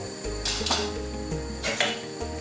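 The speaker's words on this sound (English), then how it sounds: "Give it a good stir." Utensil stirring rice in a pot with oil, sazon seasoning, a bay leaf and vegetable seasoning, giving a few scraping, clinking strokes over a steady low hum at close range.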